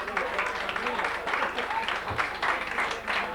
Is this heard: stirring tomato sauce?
no